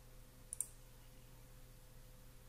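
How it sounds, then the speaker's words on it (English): A pair of sharp, quick computer mouse clicks sound close together against a quiet room hum, brief and faint, with no talk. "If I click on the link,"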